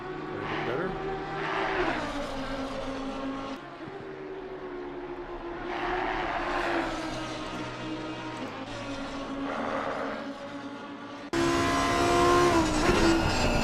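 GT3 race cars lap Watkins Glen in a racing video game, engines rising and falling in pitch as cars pass and shift, moderately loud beneath steady commentary voices.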